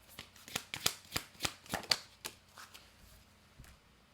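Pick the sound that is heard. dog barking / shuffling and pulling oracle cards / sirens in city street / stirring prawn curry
shuffling and pulling oracle cards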